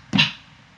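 A mouth-made percussion sound sampled on a Yamaha EX5R, imitating a conga, gives a single short, breathy hit that decays quickly, with a faint tick just after.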